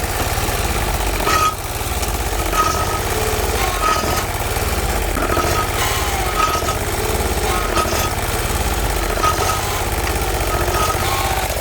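The Briggs 20HP V-twin engine on a Bolens 1600H tractor runs with a loud, rapid, rough knocking throb that holds steady and close throughout, with no one speaking.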